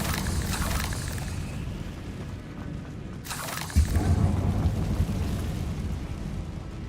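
Confringo blasting spell from Hogwarts Legacy going off with a muffled low boom about halfway through, over a steady rumbling game background, moderately loud, with no talk.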